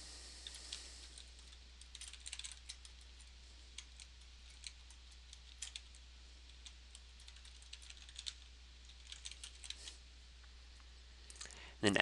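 Soft clicks of computer keyboard keys come in quick irregular bursts as a page name is typed, faint and close against a quiet low hum.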